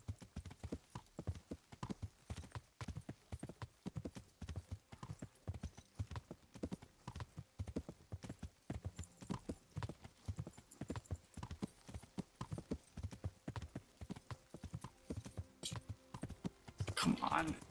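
Rhythmic hoofbeats of a galloping horse in a video game clatter steadily throughout, ending with a brief whinny near the close.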